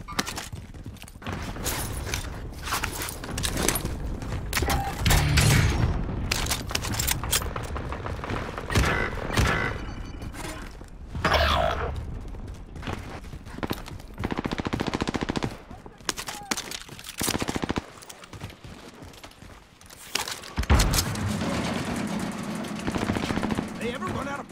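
Dense Call of Duty Warzone gunfire: bursts of automatic fire and scattered single shots crackle on and off in rapid clusters, with voices talking intermittently amid the shooting.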